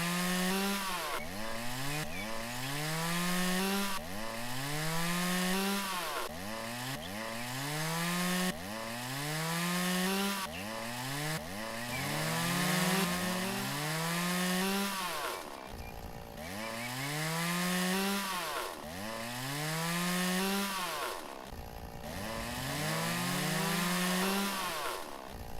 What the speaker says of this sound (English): It's funny too when you get the double chainsaw sound.